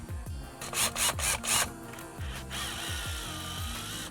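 A power drill whirs in short, repeated bursts, with rhythmic mechanical clicking and rubbing as it drives a Torx screw in a Dodge Dart steering wheel, then a steadier whine toward the end.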